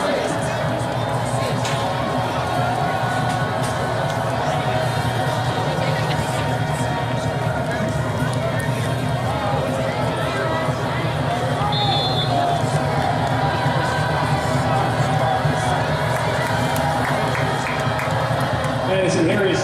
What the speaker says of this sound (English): Great crowd on hand, homecoming night